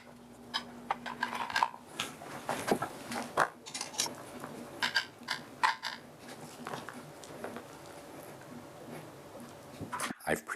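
A knife cuts dough into small squares on a board, giving a series of light, uneven taps and clinks against steady faint background noise, with a sharper knock near the end.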